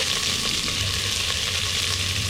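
Sliced onions frying in a pan of hot oil with spices, a steady close sizzle that holds even and continuous, with no voices over it.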